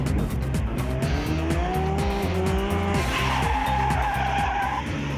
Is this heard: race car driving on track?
yes